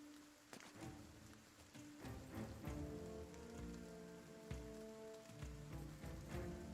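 Rain falls in the video game Battle Brothers as a quiet, steady patter spread evenly across the clip, mixed under low, sustained in-game music.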